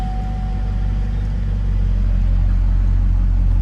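A Chevrolet Camaro SS engine runs at a steady low idle just after start-up, a close, constant rumble that grows slightly louder partway through.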